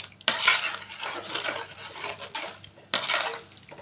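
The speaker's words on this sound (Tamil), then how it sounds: "அதை கரைச்சி இதில் ஊற்றிடலாம். இப்போ நல்லா கலந்து விட்டுக்கலாம்." A spoon stirs tamarind water into a village-style brinjal curry in a pot, giving a wet scraping swirl with two sharp clinks against the vessel, close and alone.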